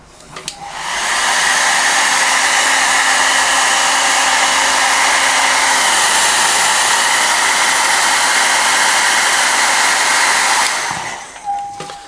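A hair dryer blows on fresh paint on a Genestealer miniature, switching on with a click, holding a loud steady whoosh for about ten seconds, then cutting off.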